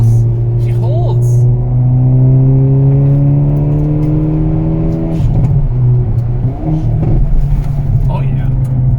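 A 2022 Hyundai Veloster N accelerates hard through a corner, its engine note climbing steadily in pitch and loudness from inside the cabin, with a brief shift dip midway and people talking over it.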